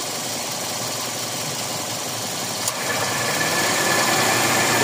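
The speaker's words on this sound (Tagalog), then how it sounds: "Maingay talaga compressor" A noisy AC compressor in a Toyota Vios Gen 4 runs with a steady rough mechanical drone, growing slightly louder partway through, with no talking.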